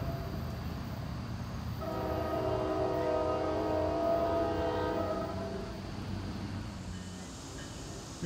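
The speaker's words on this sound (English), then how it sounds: "Another train to Hoboken." A passing NJ Transit train sounds a sustained chord horn over a steady rumble of wheels on rails, the horn swelling and fading over several seconds as the train rolls by.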